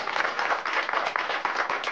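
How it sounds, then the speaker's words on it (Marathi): A studio audience on a Marathi TV serial breaks into applause, a dense, even burst of many hands clapping that fills the room for a couple of seconds without talk. "एकदा जोरदार टाळ्या सगळ्यांसाठी"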